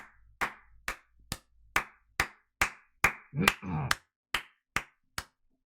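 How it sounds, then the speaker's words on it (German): Sharp, evenly spaced claps ring out one at a time, about a dozen in a steady rhythm, with a short muffled voice in the middle. "Einmal Applaus für Flantrox"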